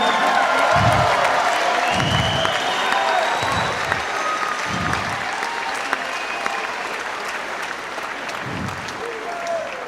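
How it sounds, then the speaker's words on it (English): Sustained applause from a crowd at a heavyweight boxing event, loud and dense throughout, with a few faint whoops, low rhythmic thumps and speech murmuring underneath. "So let's give him another round of applause"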